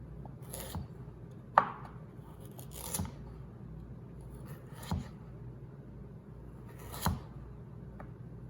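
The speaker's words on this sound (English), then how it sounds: "We're gonna do the same thing with the carrots. I'm gonna actually cut them a little differently." A knife cuts carrots on a cutting board for a stir fry, about five distinct, well-spaced chops against a faint steady background, close and clear with no talking.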